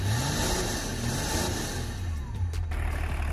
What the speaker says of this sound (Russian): старый мотор, конечно, работает громко